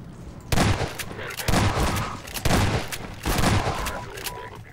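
Four heavy shotgun blasts from Half-Life 2 boom in quick succession, each loud and close with a sharp crack and a short ringing tail that overlaps the next shot.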